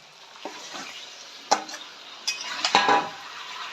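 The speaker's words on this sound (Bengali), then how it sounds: "এবার আমি এর মধ্যে আমার ম্যারিনেট করা চিকেনটা দিয়ে দেবো" Marinated chicken drops into a pan of frying masala paste for Hyderabadi chicken masala curry and gets stirred, a low sizzle broken by a few spoon clinks and scraping bursts, no voices.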